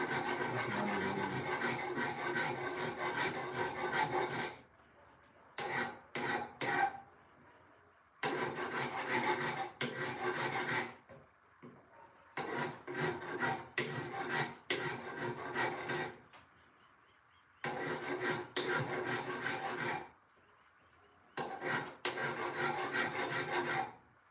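A farrier's rasp files back and forth across a workpiece in long bursts of harsh scraping strokes, each run lasting a few seconds and separated by short pauses, close and loud with no talk.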